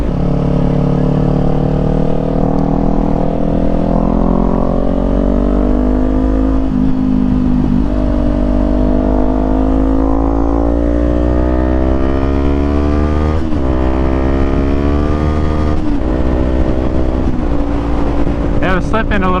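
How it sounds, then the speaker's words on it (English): A Kawasaki Z400 with an aftermarket exhaust rides on a group outing, its engine loud and continuous with revs climbing and dropping through the gears under steady wind rush. "I like this exhaust a lot. I mean, it sounds perfect."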